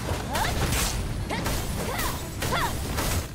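Objects smash in the video game Where Winds Meet during a Sword Trial: several loud crashes and swishing whooshes come in quick succession over a dense, constant wash of game noise.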